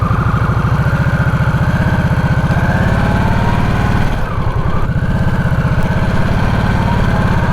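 A 2024 Harley-Davidson Nightster Special 975 motorcycle engine runs steadily and loudly up close, with a continuous rhythmic throb and a brief dip midway, and no talking.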